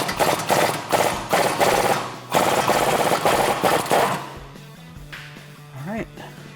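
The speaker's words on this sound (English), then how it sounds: "what we're gonna do is use a swivel socket on my impact gun" A pneumatic impact gun with a swivel socket hammers off an 18 millimeter nut on a Dodge Challenger's suspension, firing in several loud rattling bursts up close before the noise drops away to quieter shop sounds.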